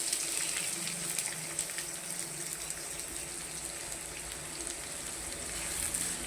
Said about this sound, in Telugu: ఈ ఉల్లిపాయలు ఇందులో వేసుకొని బాగా వేయించుకుందాం.